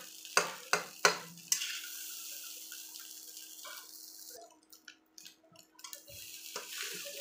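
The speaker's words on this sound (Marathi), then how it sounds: "चांगल्या प्रकारे याला हलवून घ्यायचे." Egg rice is stirred in a pan with a few sharp scraping clicks at the start, then a soft steady sizzle broken by scattered spoon scrapes.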